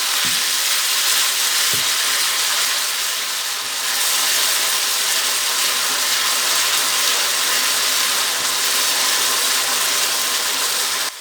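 One large ground onion frying in oil in a pot until lightly browned, for a mutton gola kabab curry: a steady, even sizzle that holds close and loud throughout, with a couple of faint clinks early on.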